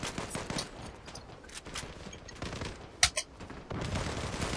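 Video game gunfire, scattered bursts of shots and a couple of sharp cracks near the middle, fairly quiet overall and mixed with other game noise.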